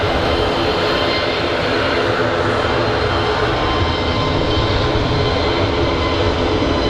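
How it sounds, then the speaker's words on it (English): A Finnair Embraer 190 airliner departs Manchester Airport with a loud, steady, broadband jet roar that fills the whole stretch without a break and no voices. "Finnair Embraer 190 on the way out"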